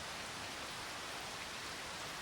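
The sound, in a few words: rain in a countryside farming video game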